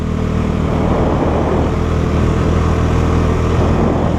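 A Bajaj Dominar 400 motorcycle riding off, its engine a steady loud drone mixed with wind rush, sustained and close for the whole stretch, with no speech.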